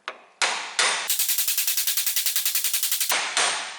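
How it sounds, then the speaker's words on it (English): A 1-pound hammer strikes the U-joint yoke of a 1995 Jeep Cherokee XJ, a few spaced metallic blows followed by a rapid burst of about twenty quick, sharp hits, then two more single strikes, close and loud. "now I can get my hammer and hit on this, which will drive this part of the yoke down and drive that cap out"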